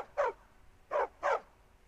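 Meeko the dog in the Skyrim video game gives three short, clear barks, one alone and then two close together, with quiet pauses between.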